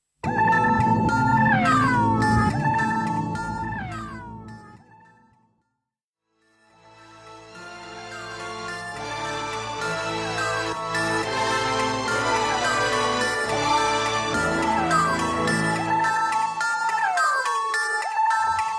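An electronic track playing on the radio, a dense layered mix with a sharp break of near silence around five seconds before the full beat and synth lines return loud and steady.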